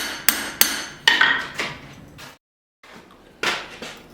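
A hammer striking a knife blade with an integral bolster during forging, a run of sharp, ringing close blows, several in quick succession, a short pause, then more strikes.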